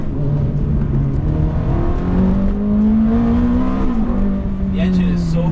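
A Ferrari F430 F1 engine drones loudly from inside the cabin during a road drive, its pitch climbing steadily as it pulls, with a voice speaking faintly over it.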